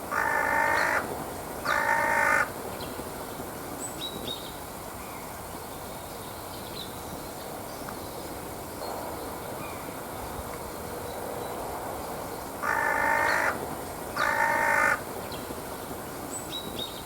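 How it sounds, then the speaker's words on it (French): Crows cawing in two pairs of loud, harsh calls near the start and again near the end, separated by a long stretch of steady outdoor background noise. "Les corvidés sont bien plus que de simples oiseaux noirs qui inspirent des présages sombres."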